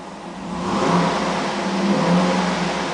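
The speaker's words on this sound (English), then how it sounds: "The car is running right now, and I'm going to rev it, so listen up." A black 2008 Cadillac Escalade ESV's 6.2 liter V8 revs up twice in a steady rising and falling drone, loud and close, with no talk over it.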